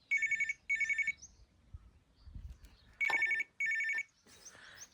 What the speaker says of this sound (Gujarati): બાપાનો ફોન આવી ગયો.